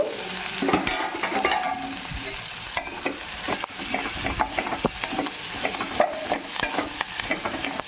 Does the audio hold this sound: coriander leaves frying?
yes